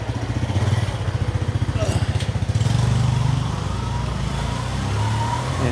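A fuel-injected Honda Wave motor scooter at a floating market in Bangkok, its engine running close by with a fast, even putter that rises briefly and then settles. Someone talks over it.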